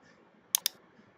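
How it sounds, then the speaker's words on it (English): Two quick, crisp clicks close together, sharp and near against a quiet background, like a computer mouse button pressed while opening a program. "I will click on it."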